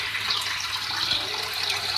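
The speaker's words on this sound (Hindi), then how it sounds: "और इसके साथ ही मैं इसमें पानी ऐड कर रही हूँ।" Half a cup of water poured into a cooking pot holding oil and green chillies for a white chicken stew makes a steady, close splashing gush that lasts about two seconds, with no talk.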